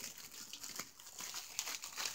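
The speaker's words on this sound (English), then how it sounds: "I'm gonna try to unwrap it in all its shiny goodness." Shiny wrapping paper on a boxed package being unwrapped, with soft, continuous crinkling and tearing close by at a low level.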